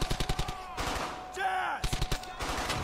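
Rapid gunfire bursts from a PS3 battlefield shooter, loud and close, in quick rhythmic volleys that stop for a moment and then start again. Other game sounds sweep through the pause.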